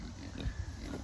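A Kunekune pig grunts low and close on a farm, a couple of short rumbling grunts over a steady outdoor background, with no one talking.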